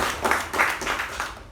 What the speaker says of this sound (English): Let us just give him another round of applause.